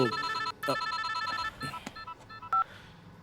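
A telephone rings in a short burst of repeated electronic tones during a scene in a Hindi-dubbed South Indian action romance film, with brief gaps between the rings and faint background sound.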